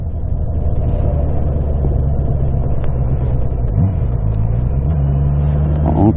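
A Honda CB650R motorcycle engine revved with the throttle, a loud, close, continuous rumble with small swells in pitch toward the end, and no talking over it.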